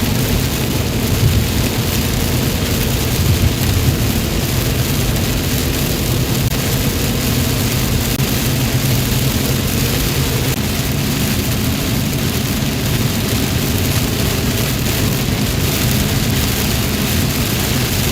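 Thunder rumbles and heavy rain pours after a close lightning strike during a North Texas storm near Dallas/Fort Worth, a steady loud wash of rain with a deep rolling rumble underneath and no talk.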